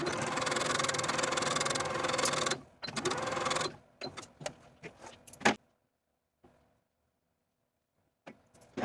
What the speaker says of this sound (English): Take it to the sewing machine and sew from the top of the dart to the point